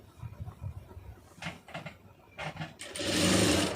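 A sewing machine stitches a light seam on the lining piece of a puff blouse sleeve, with soft rhythmic clatter of short stitching bursts followed by a louder, steadier run near the end.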